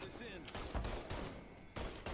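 Gunfire in the crime shooter game Mafia III comes in a few muffled bursts and single shots, moderately loud, over a background of game ambience with voices mixed in.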